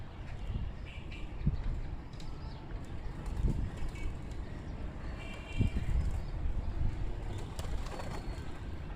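A flock of about 26 pigeons coos softly and continuously nearby, with occasional wing flaps and low thumps over a steady outdoor background.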